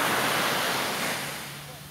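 Ocean waves break and wash on a beach, a dense steady roar of surf close to the microphone that gradually eases and fades toward the end.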